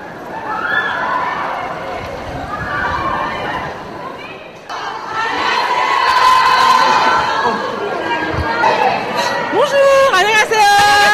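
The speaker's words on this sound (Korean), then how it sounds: "공항에서부터 벌써 팬들로 들썩인다." A crowd of fans cheering at a Paris airport, loud and sustained, with high-pitched shrieks and shouts rising over the general roar, close and dense throughout.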